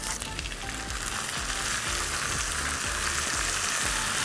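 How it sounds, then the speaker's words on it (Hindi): Chopped onion frying in a pan for tomato fried rice, a steady close sizzle with occasional stirring scrapes, no voices. "इसमें जाएगा प्याज, और प्याज की भुनाई करनी है लेकिन कितनी, ब्राउन नहीं करना।"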